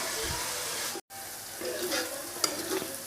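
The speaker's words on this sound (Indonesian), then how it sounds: "Kita tumis sampai matang. Jangan sampai gosong ya pemirsa." Spices stir-frying in a hot pan for beef tongseng, a steady close sizzle with scraping stirs throughout and a brief break near the start.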